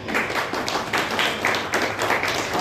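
Applause welcoming speakers at a traders' association gathering in Chhindwara, a crowd clapping steadily and loudly in uneven surges, with no talking over it.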